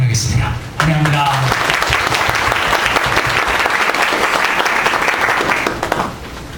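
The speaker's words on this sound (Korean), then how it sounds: "뜨겁게 박수로 환영하겠습니다" An audience at a church service breaks into loud, sustained applause welcoming a speaker, dense clapping from a crowd that rises after a brief voice and holds for several seconds before fading.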